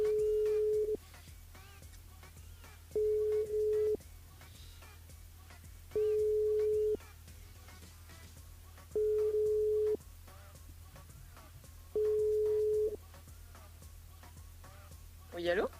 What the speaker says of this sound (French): Sur le standard, on appelle Catherine.